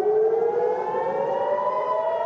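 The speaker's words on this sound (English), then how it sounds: "And you hear that. Those are some of the sirens" Air raid sirens wail together in a sustained, slowly rising tone, steady and loud with no talking over them.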